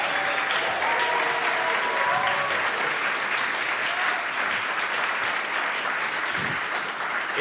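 A live audience at a speed chess final in Paris applauds, steady dense clapping that holds at full strength for several seconds, loud and close, with faint cheers mixed in.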